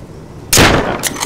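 Gunfire in the survival video game Rust: a sudden loud blast that rings on, then a second sharp shot just after, close and with no talk over it.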